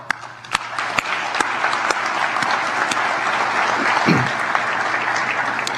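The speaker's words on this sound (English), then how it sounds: "I want to give him a round of applause." An audience at a dedication ceremony gives a round of applause, steady moderate clapping from a modest crowd in a room, with a few sharper individual claps standing out.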